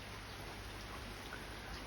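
Rain falls on a rainy day in a garden with tomato plants, a dense, even patter of fine drops that holds steady and soft for under two seconds with no voices.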